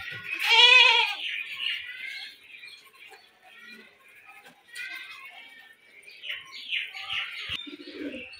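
Giribaz flying pigeons in Rajshahi call out, with one loud, harmonic call near the start and then softer, scattered coos and chirps, close by, with a faint voice in the background.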